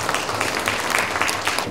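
Applause at a newspaper's 40th anniversary ceremony and inauguration of a Buddhist order's president, a steady wash of many hands clapping indoors with no gaps, fairly loud, with a faint murmur of voices underneath.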